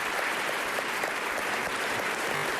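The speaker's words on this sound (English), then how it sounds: "Give her a round of applause." A concert audience gives a young performer a sustained round of applause, loud and unbroken from start to finish, with no talking.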